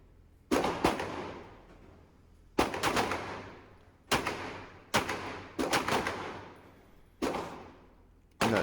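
Seven loud, sharp CZ P-09 pistol shots ring out at a shooting range, spaced unevenly about a second apart, each with a brief echoing decay and no talking between them.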